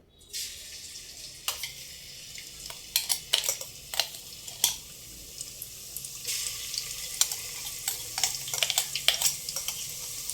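Ground paste for veg pulao hisses in moderately warm oil with a steady broadband sizzle. Frequent sharp clicks of a spoon against the pan break through the hiss, close up and with no voices.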